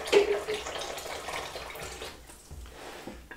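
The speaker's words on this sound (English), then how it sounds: "And we're just getting tepid water now." A kitchen tap runs steadily into a sink as water warms to tepid for cooking, a broad close-up gush that thins slightly toward the end, with no talking.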